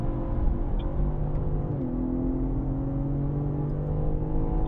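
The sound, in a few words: BMW M car engine accelerating on track at Sonoma Raceway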